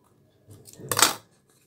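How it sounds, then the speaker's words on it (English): Scissors cut a piece of craft material for a handmade rose in one short, crisp snip with a soft rustle leading into it, close and isolated in a quiet room. "So I am cutting one piece from this"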